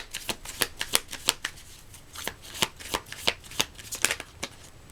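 Tarot cards are shuffled up close in a run of quick, crisp riffling bursts, repeated irregularly with brief pauses between.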